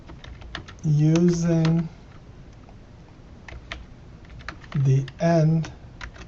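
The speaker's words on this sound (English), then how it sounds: "So I'm going to type this loop again" Soft keyboard clicks tap out code during a programming lesson, faint and scattered between stretches of a man's speech.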